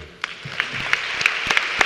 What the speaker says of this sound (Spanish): quiero hacer un pequeño homenaje a la Junta Directiva saliente con un aplauso hacia ellos